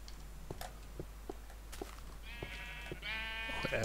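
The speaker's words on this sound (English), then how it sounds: "Sounds like Marcus has got a lot of sheep next door" Sheep bleat in a Minecraft game, several wavering calls overlapping in the second half and rising in loudness, after a run of soft, evenly spaced footsteps over a steady low hum.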